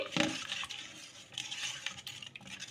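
Water being poured into semolina dosa batter, splashing and trickling in a steady close-up stream with brief splashy bursts, no talking.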